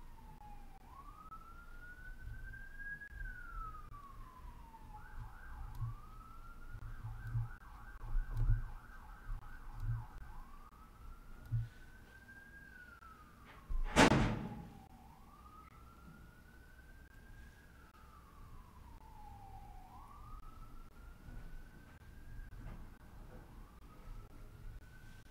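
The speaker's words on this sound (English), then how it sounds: "We do have a lot of sirens in the back." An emergency vehicle siren wails outside in a rising and falling sweep, repeating steadily, distant and moderately faint, with a brief loud thump partway through and low background rumble.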